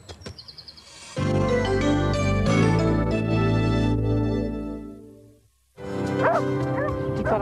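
Several dogs bark and yip in a 1992/93 Pedigree Pal dog food commercial, a cluster of sharp barks at the start before steady music takes over, with a brief whimper-like sound under it.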